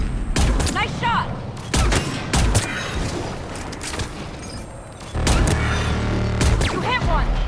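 Gunfire in the Mass Effect 3 video game on Thessia, with loud, dense bursts of rapid shots and booms in repeated volleys, close and continuous, and game voices shouting over the battle.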